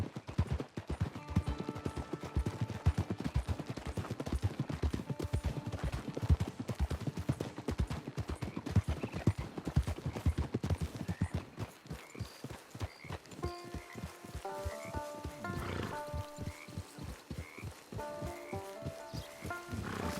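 Horse hooves clip-clopping at a steady trot in the Red Dead Online western game, close and rhythmic, with a short shift in pace partway through and soft game ambience and faint tonal music underneath.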